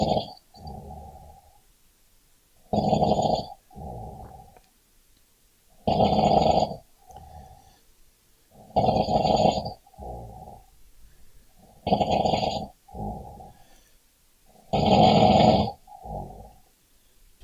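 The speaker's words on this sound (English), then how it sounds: "Okay, so we got another minute of snoring" A person snoring loudly and close, six long rasping inhale snores in a slow regular rhythm, each followed by a softer exhale, with quiet gaps between.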